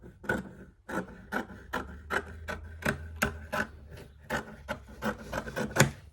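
Velvet fabric on a journal cover made from junk mail is trimmed along its edges, heard as a close, quiet series of rhythmic snipping and rasping strokes with no voices.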